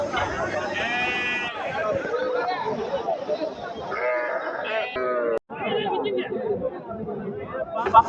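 Rams bleating at a busy village livestock market in Kadiri, several loud, wavering calls overlapping with constant chatter of a crowd nearby.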